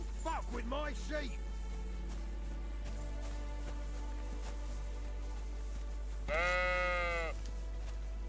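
Sheep in Kingdom Come: Deliverance 2 bleat in two wavering calls, one near the start and a louder one later, over a low steady hum with a voice speaking between them.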